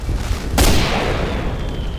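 A tank destroyer's main cannon fires in a World War II tank video game, one sudden heavy boom after a short quiet stretch, then a long rumbling decay that fades slowly.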